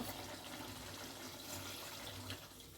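Water splashes and pours steadily into a pan of chicken curry, a soft continuous trickle heard close up and fairly quiet.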